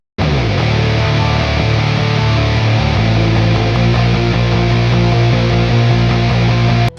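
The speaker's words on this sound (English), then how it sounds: "you put it together with the guitar and it sounds like this." Loud, dense distorted electric guitar with a bass line tracking the chords, playing a heavy metal arrangement of the Helldivers 2 theme. The low end thickens and grows more driving partway through, and the sound continues without a break.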